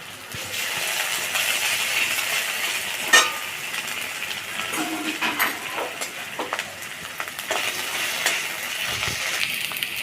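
Ginger-garlic paste frying in a pan for a Bengali bhola fish curry, a steady close sizzle and crackle with occasional light clicks of a utensil, no talking.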